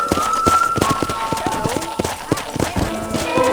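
Horse hoofbeats clop steadily and close in Red Dead Redemption, a quick galloping rhythm of sharp repeated strikes over a constant game ambience, with a whinny-like tone and some speech mixed in.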